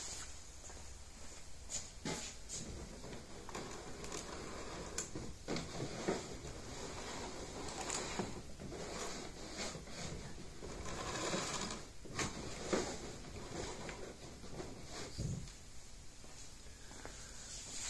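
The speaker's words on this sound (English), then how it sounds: "I've installed the swivel wire cap on the trolling motor, and I'm going to go ahead and test it out" Trolling motor fitted with a shortened shaft and swivel wire cap running under test, a steady mechanical whir with repeated clicks and ticks throughout.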